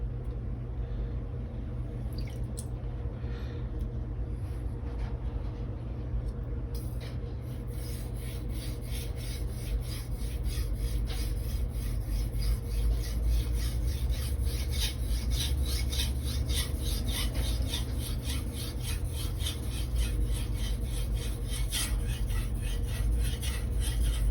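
A 240mm Blue Super gyuto knife is sharpened on a Naniwa 3000 whetstone, a close, steady wet rasping of steel stroked back and forth over stone in a quick, regular rhythm, with no speech.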